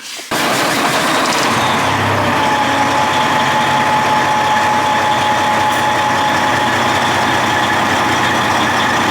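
A vehicle engine starts during a battery cranking test with a battery analyzer. There is a brief sound at the very start, then a loud, steady idle hums close by for the rest of the clip.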